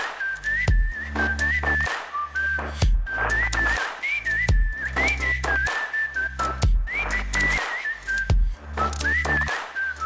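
A whistled melody in an electronic dance drop, processed with a doubler and compressor, bright tune riding over a pounding kick and bass pattern in repeating phrases, loud and upfront without any talking.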